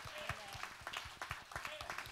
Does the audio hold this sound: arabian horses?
no